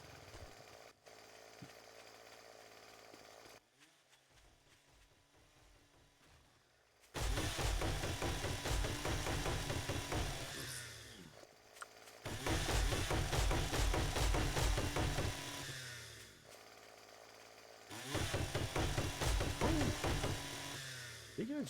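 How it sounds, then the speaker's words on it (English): A chainsaw in the video game 7 Days to Die buzzes in loud, rough bursts separated by quieter stretches, running close up while people talk at a lower level. "listen to that chainsaw all the goddamn time"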